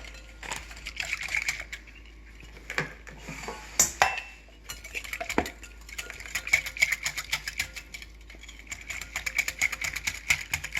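A spoon clinks and scrapes against a bowl in uneven bursts, close by, while oil and flour are mixed into crepe batter, with a faint steady hum in the background.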